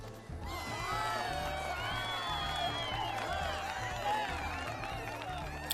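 Cheering and clapping from a crowd at a Final Fantasy XIV fashion event, a busy, sustained swell of whoops and voices over a steady rhythmic background beat, even in loudness throughout.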